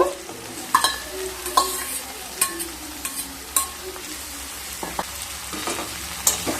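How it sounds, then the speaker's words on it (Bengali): Fried pumpkin greens and prawns tossed into a pan of partly cooked vegetables, a soft continuous sizzle with repeated sharp scrapes and clanks of a spatula on the pan, close by and without speech. "এই সময় ভেজে রাখা কুমড়োর শাক আর চিংড়ি মাছগুলোকে দিয়ে দেব"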